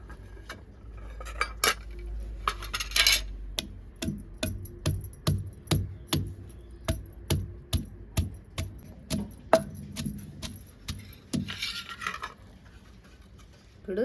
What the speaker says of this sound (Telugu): ఇప్పుడండి దంచుకుంటుండా ఇప్పుడు అల్లం కూడా వేసుకుంటుండే